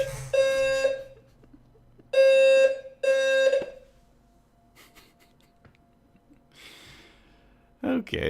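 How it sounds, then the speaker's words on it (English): A building fire alarm system under test sounds three loud, harmonic electronic tones, the first near a second long, then two in close succession, followed by quiet room tone and a brief final blast at the end. "They're testing the freaking fire alarm system."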